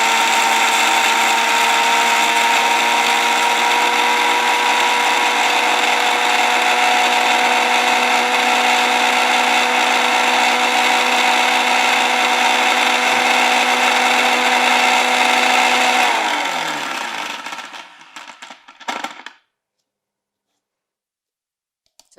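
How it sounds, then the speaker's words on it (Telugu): A kitchen mixer grinder whirs steadily and loudly as it blends neem leaves and rose petals with no added water for a homemade soap paste, then winds down and stops, leaving a short silence. "మళ్ళీ ఒకసారి మిక్సీ పట్టుకుందాం"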